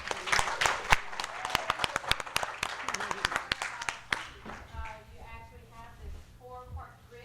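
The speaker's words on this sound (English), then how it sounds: "Let's give them a round of applause." A burst of crowd applause, sharp and dense at first, thinning out over a few seconds as a voice starts speaking.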